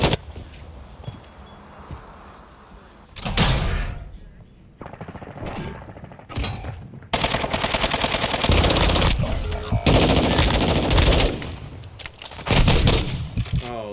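Light machine gun fire in a video game comes in loud, rapid bursts separated by short lulls, with scattered shots and quieter game noise in between.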